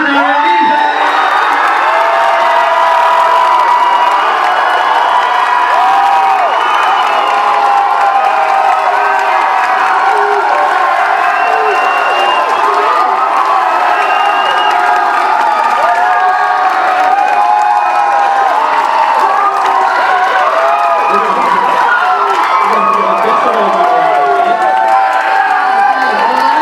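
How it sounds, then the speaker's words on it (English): Loud crowd at a university Strictly dance show cheering, whooping and applauding the softball and baseball couple, with steady dense noise and shouts running throughout. "can we please get a round of applause from softball and baseball, Hannah and Lisa."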